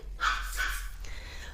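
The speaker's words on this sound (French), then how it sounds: "Le petit chien qui aboie." A small dog barks twice in quick succession, sharp yappy barks close by over a low steady background hum, then falls quiet.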